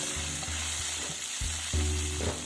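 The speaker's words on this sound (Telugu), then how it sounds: "ఇప్పుడు కొంచెం కరివేపాకు వేసుకుని ఒకసారి బాగా కలిపేసుకుందాం." Curry leaves dropped into hot tempering oil for a Telugu brinjal and cowpea curry, crackling and sizzling loudly with scraping stir strokes, steady frying hiss underneath.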